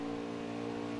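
A stock car engine runs at low RPM in the NASCAR Heat 4 racing game, a steady, even mid-pitched drone held for a single second without any revving.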